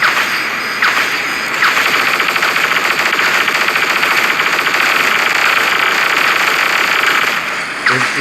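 Relentless rapid-fire rattle of paired Vajra guns in the video game Orbital Mayhem, one firing while the other reloads, so the loud mechanical stream runs almost unbroken with only brief hitches.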